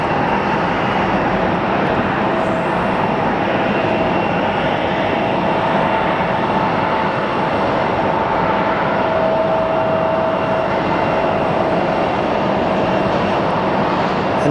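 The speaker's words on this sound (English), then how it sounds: "And our 737 is coming in very soon." A Boeing 737 in old Continental livery comes in to land, its loud jet roar broad and continuous throughout with a faint steady whine riding on top.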